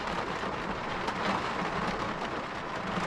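Steady rain falls outdoors around trucks during an oilfield frac equipment move, a dense, even hiss with faint low rumbling and no gaps.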